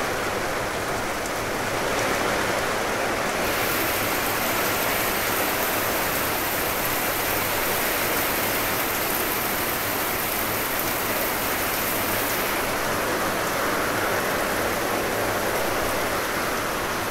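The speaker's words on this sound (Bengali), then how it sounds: "পরা আকারের বৃষ্টি নামছে" Heavy rain pours down steadily, a dense continuous hiss of falling water that stays loud and unbroken throughout, with a brief brighter wash in the middle.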